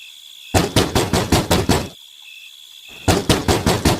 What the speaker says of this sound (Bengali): হঠাৎ করে দরজা ধাক্কানোর শব্দে